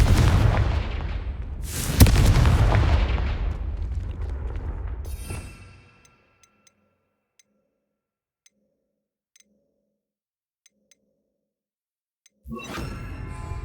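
A Confringo blasting spell explodes in the Hogwarts Legacy video game: a loud booming burst with a sharp crack near its start, fading over several seconds into near silence, before another burst arrives at the very end.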